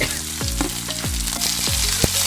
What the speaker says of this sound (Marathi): ही अशी भाजी परतून द्यायची.